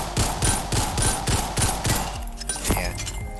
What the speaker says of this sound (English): Yeah, dual pistols. It's the only dual-wield weapon in the game.